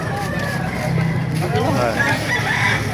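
Roosters crow and chickens cluck at a busy poultry market in Baliuag, Bulacan, the calls rising over crowd babble and someone talking close by.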